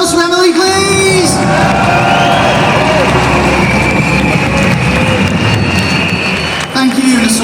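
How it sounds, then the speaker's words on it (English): A large outdoor crowd at a Pride event in Liverpool roars and cheers loudly in a sustained wash of noise, with whoops rising above it and a speaker's amplified voice at the start and end. "Can we have another big round of applause for Emily,"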